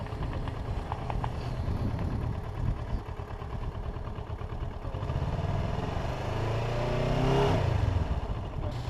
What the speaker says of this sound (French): On monte en régime.